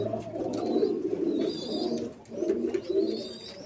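Pigeons coo in their multi-storey lofts, with several birds giving low, throaty, rolling coos in overlapping bursts close by, and faint higher chirps above them.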